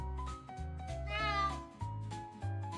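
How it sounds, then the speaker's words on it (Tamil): A cartoon cat meows in a single drawn-out, wavering cry over a looping background music bed, clear and up front. "ஒரு கிராமத்தில் மிகவும் சோம்பேறி பூனை ஒன்று வசித்து வந்தது."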